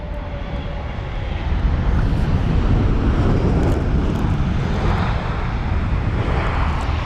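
A Boeing 787-9 Dreamliner airliner arriving from Tokyo on its landing approach at London Heathrow in the rain, its engines roaring steadily and loudly close by, with wind buffeting the microphone.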